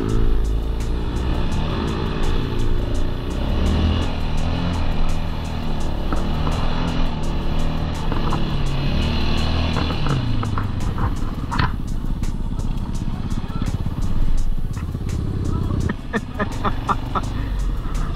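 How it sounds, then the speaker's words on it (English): A Kawasaki KLX140 dirt bike ridden by a beginner, its small engine droning and revving steadily at middle distance for the whole stretch, with the pitch rising and falling as the throttle changes. "Just learning how to ride. Learning how to ride dirt bikes."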